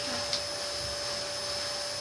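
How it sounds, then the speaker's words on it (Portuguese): A vacuum cleaner runs steadily with a constant whine and hum, close and unbroken. "foi mal esse barulho aí de aspirador"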